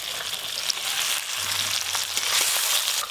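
Small mixed river fish fry lightly in hot oil in a pan, giving a steady close sizzle with crackling spatter and occasional stirring, continuous and without talk.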